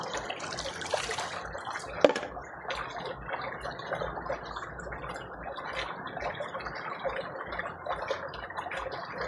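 Water trickles and dribbles steadily onto a tattoo sticker beside a pool at a beach resort, a soft, continuous wet sound close by with one brief tap near the start.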